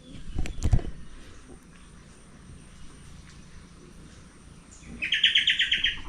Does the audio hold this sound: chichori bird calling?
yes